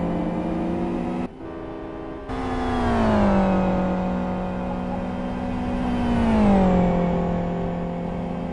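A GT1 race car engine drones loud and steady as the car heads into the pit lane, its pitch dipping and rising with a brief sharp cut in the sound partway through.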